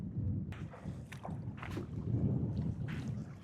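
Wind buffets the microphone on a choppy lake during a kayak outing, with a steady low rumble of gusts and water sloshing against the boat, broken by scattered splashes and paddle strokes.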